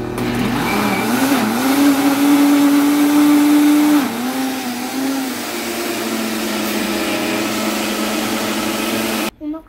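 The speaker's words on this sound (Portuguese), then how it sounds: "Agora a gente vai ligar o liquidificador" A kitchen blender whirs loudly and continuously while mixing cake batter with sugar, its motor pitch dipping as the load changes, before stopping abruptly at the end.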